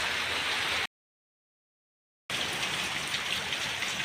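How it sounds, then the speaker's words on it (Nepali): Light rain falling and dripping from above, a soft, steady hiss heard at low level that drops out completely for over a second before resuming. "पानीको माथिबाट टुप टुप टुप पानी चुहिरहेको छ।"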